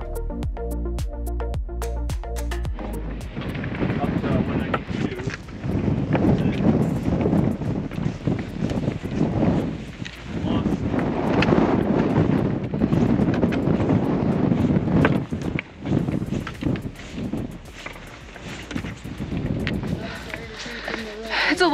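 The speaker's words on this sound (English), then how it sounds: "And it is cold and windy." Cold, strong wind on the Appalachian Trail above Lakes of the Clouds Hut near Mount Washington, buffeting the microphone in a loud, steady roar with gusty surges that takes over after a few seconds of quieter tones.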